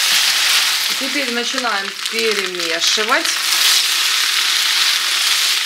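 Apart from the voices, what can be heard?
potatoes with pork fat frying and sizzling in a pan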